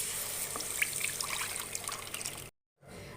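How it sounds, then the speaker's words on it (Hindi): A cup of water poured into besan batter for khandvi, a steady close trickle and splash lasting a couple of seconds before a brief cut to silence. "अब मैं इसके अंदर 1 कप पानी और डालूंगी और इसे अच्छे से मिक्स कर लूंगी।"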